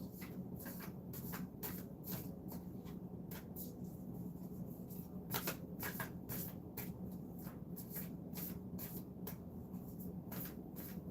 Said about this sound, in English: I gotta give my hands a break from the shuffling